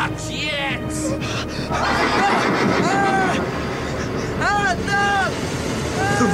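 In a radio drama, a horse with a rider rears and whinnies in several short, shrill neighs. The neighs rise over a dense, rumbling, turbulent sound bed, and brief high cries come near the start.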